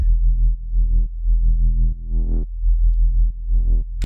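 Deep pre-made synth sub bass from a minimal drum and bass roller, loud and sustained, moving through a series of held notes with short breaks between phrases and no drums or voices.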